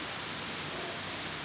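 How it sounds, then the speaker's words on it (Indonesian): Drizzle falling steadily, a dense even hiss of light rain with no breaks, close and continuous. "Ternyata gerimis juga belum berhenti."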